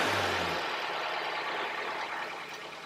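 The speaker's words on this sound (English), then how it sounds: "So let's go start the engine." A 2016 Honda Civic with a 2.0L engine settles into a steady idle, a low, even engine hum heard alone at close range after a brief rumble at the start.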